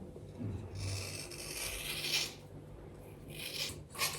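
Blade slicing through material up close, producing a series of short raspy scraping strokes with brief pauses between them.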